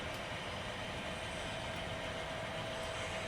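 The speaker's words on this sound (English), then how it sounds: "This is just a manifest train." Manifest freight train on a Union Pacific line passing as a continuous, fairly faint rumble with steady wheel noise and no voices.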